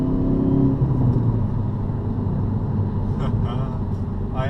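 A car drives in N mode with a steady low engine and road rumble from inside the cabin. Revs shift slightly early on, and a person talks over the drive near the end.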